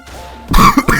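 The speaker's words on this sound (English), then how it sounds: "Oh good, more coughing." A man coughs twice close to the microphone, short harsh throaty bursts following a quiet moment, during a Paranautical Activity gameplay session.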